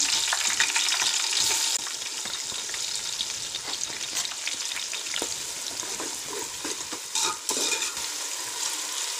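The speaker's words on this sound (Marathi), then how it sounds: "कांदा घालूया" Chopped onion frying in hot oil in a pan for chicken tahari, a steady loud sizzle with crackling bursts and occasional stirring scrapes, close and continuous with no talk.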